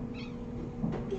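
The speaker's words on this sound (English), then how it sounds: "Cute kitty." A Siamese cat with a darkening coat lets out a short, close meow near the end, over a steady low indoor hum.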